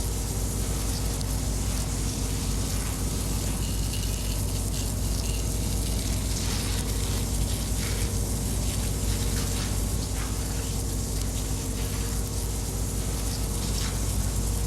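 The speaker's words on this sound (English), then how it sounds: "I'll spray inside the manhole as I get closer to the opening." A firefighter's hose sprays water into a burning manhole, a constant loud hissing gush with a low rumble beneath it that holds steady throughout without any break.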